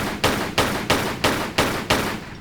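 Six evenly spaced, loud gunshots ring out in Tomb Raider III, each sharp crack followed by a short decaying tail, firing at a steady rhythm.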